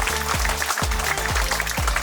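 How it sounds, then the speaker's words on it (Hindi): An audience at a church silver jubilee celebration in Kalapahad, North and Middle Andaman, claps loudly for the parish priests. The dense, continuous applause fills the space, with a faint low thumping pulse repeating underneath. "तो पल्ली पुरोहित और सहायक पल्ली पुरोहित के लिए भी हम जोरदार ताली बजाकर धन्यवाद देते हैं।"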